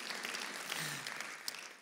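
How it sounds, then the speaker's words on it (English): A church congregation applauds at Northview Church in Carmel, Indiana, a faint, dense wash of many hands clapping at a distance, with no speech. "You can give God a good hand clap if you want."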